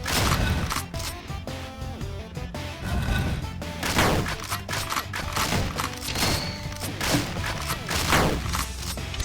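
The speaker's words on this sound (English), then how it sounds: "using the shotgun" Repeated shotgun blasts in the 2D action game Dungreed, punchy shots firing in quick irregular bursts over busy game music and mechanical clatter, loud throughout.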